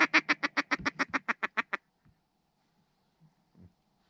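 A mallard duck quacks during a pothole duck hunt in Alberta, a rapid run of about a dozen loud, close quacks, followed by quiet with a few faint thumps.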